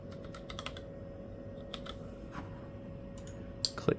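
Quick bursts of keystrokes on a computer keyboard while a name is entered on an old Gateway Astro PC, light clicks close up in short irregular runs over a constant electrical hum, with a couple of louder taps at the end.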